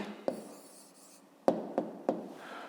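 Pen or pencil writing an answer on paper, a few short scratchy strokes and taps separated by quiet pauses, close and faint.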